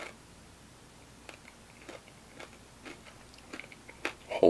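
Crunchy Filipino pork pieces with red onion chewed close to the mic, a series of soft irregular crunches and bites spread through a few seconds over quiet room noise, growing louder toward the end.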